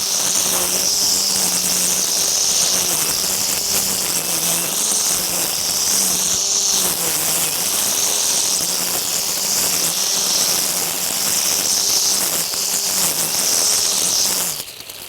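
EGO cordless string trimmer cutting through weeds, a steady whining motor hum with a high buzzing line-spin tone that wavers slightly as it loads, continuous and close for the whole stretch.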